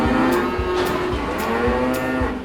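Cattle at a large livestock auction with over 2,000 cows low out in repeated deep moos, several overlapping calls in a steady rhythm, loud and close against a constant barn din.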